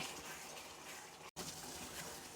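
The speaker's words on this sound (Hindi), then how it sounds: "अभी ये नमक वाला पानी हम इसके बीच में डाल देंगे।" Salt water poured into masala kaleji cooking in a pan, a steady broadband sizzle and gush at low level, with a brief cut midway.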